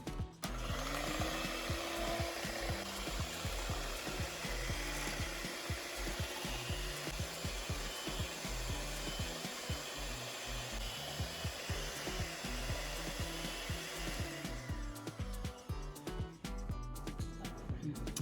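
An electric mixer whirs steadily while beating 600 ml of fresh cream in a large bowl, a constant motor drone with scraping rattles that cuts off near the end.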